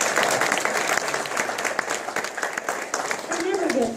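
Audience applause at a political town hall in Chehalis, Washington: dense clapping with sharp individual claps, continuous and fairly close, with some voices mixed in.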